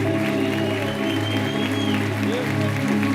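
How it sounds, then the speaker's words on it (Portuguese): Church congregation applauding during a celebration service, with sustained clapping blended into loud organ or keyboard music and voices, continuous and fairly loud. "Pode aplaudir ao Senhor."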